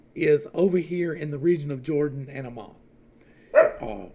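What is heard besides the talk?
dog barking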